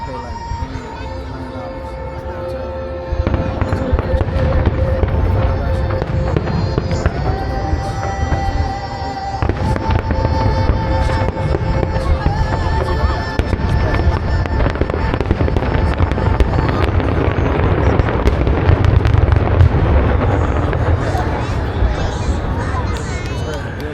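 Pattaya international fireworks show seen from a balcony: dense, continuous booming and crackling bursts layered over a crowd's babble, with distant thumps and sparkling crackle throughout.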